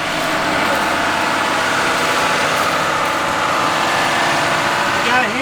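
A tractor engine runs at a steady, loud, close drone on a farm set up for straw production, with a voice speaking over it.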